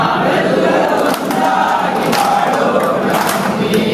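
An audience at an alcohol de-addiction camp claps and makes noise together, a loud, dense and steady wash of crowd sound with sharp clapping throughout.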